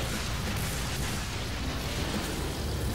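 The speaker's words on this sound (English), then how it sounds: "let's go ahead and set ourselves on fire again" Dense, continuous roaring fire and explosion noise from a player set ablaze in the Doom SnapMap game, loud and steady throughout with no pauses or talk.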